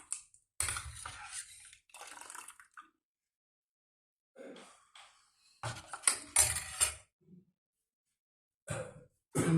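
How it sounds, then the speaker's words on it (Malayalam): Rice batter for neer dosa, thinned with water, is stirred in a vessel, giving short, close bursts of scraping and sloshing separated by quiet pauses, with no talking. "നന്നായിട്ട് ഇളക്കി വയ്ക്കുക."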